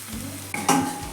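Ginger garlic paste for mushroom masala sizzles in a hot pan, with a short scrape of stirring and a brief burst of frying, close and fairly loud.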